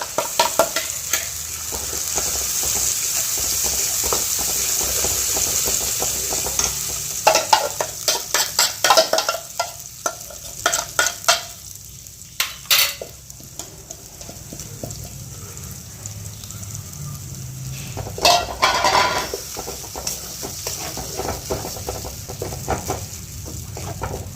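Sweet corn usal being stirred in a pan, a low sizzle under repeated bursts of spoon scraping and clatter against the pan, with quieter stretches between stirs.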